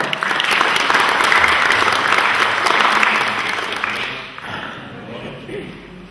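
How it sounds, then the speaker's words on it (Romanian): An audience at a ceremony in Bacău honoring senior couples married fifty years applauds loudly and steadily, a dense wash of many hands close by that gradually fades toward the end. "Felicitări! Haideți să-i aplaudăm!"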